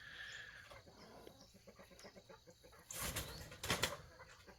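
Hens and a rooster flap and scramble up onto a roost, with a couple of loud bursts of wing flapping and rustling near the end over quieter shuffling movement.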